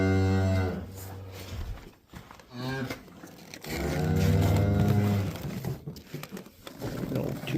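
Cattle low loudly in a barn where cows stand with a newborn calf, several long drawn-out moos following one another at close range with some background rustle.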